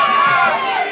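Loud sold-out arena crowd at the Civic Center cheering and shouting during a live fight, a dense continuous roar with children's shrieks riding on top, filling the whole moment.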